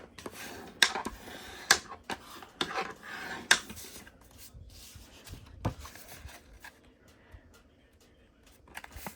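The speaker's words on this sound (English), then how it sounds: "And let's go ahead and burnish these card bases." Close rubbing and scraping strokes come from a burnishing tool pressed along the scored fold line of Crumb Cake cardstock card bases, several quick passes followed by softer, quieter sweeps.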